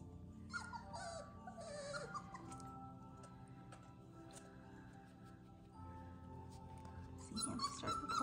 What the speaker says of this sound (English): Cinnamon Roll is the biggest puppy.